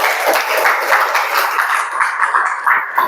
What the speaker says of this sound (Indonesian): Beri tepuk tangan dulu untuk teman kita